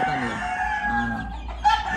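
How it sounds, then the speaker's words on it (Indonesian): A young two-month-old chicken at a Bali gamefarm makes a drawn-out, tonal crowing call, close and moderately loud, ending with a short sharper note. "Anak ayam umur 2 bulan seginian gitu."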